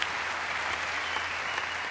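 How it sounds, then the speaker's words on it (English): A large keynote audience at the Dreamforce conference breaks into sustained applause, a dense, even roar of many hands clapping throughout the room with no speech over it. "Let's give these people a big round of applause because they're such an important part of our community."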